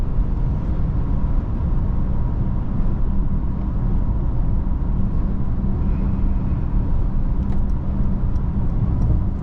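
A 2024 Mercedes-Benz GLE 350 4Matic SUV cruises on a Southern California freeway, heard from inside as a steady, loud low-pitched drone of engine, tire and road noise with no talking.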